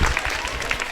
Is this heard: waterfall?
no